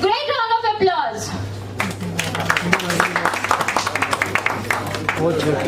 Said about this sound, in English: please unveil the cover page of Society Interior and Design magazine with a great round of applause